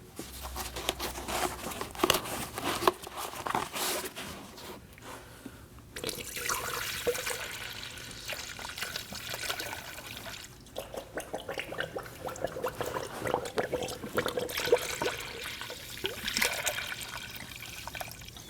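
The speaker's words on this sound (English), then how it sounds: "Using the recommended fluid by the manufacturer, go ahead and fill in your radiator." Coolant pours through a funnel into the radiator of a 2011-2016 Kia Optima 2.4L, a soft, uneven trickle and gurgle of liquid with crinkling handling noises.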